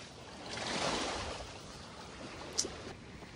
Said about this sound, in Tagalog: Medyo malakas na po yung alon.